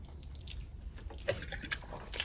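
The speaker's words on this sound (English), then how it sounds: "we want to do is drain the wastewater tank" Water drains from a trash bin cleaner's wastewater tank, trickling and dripping faintly at close range, with a few brighter splashes and no talk.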